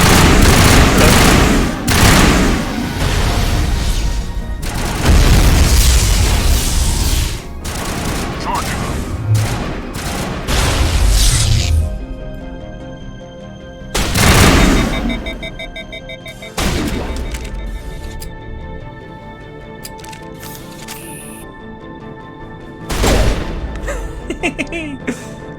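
Pistol gunfire in the video game Mass Effect, with repeated loud sharp shots and bursts coming in clusters across the stretch and quieter gaps between them, as a player talks at times.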